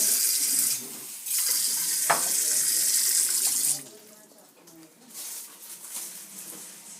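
Tap water in Akçay, fed from the Kaz Mountains, rushes from a faucet into a container in two strong bursts, then stops. People talk over and after the flow.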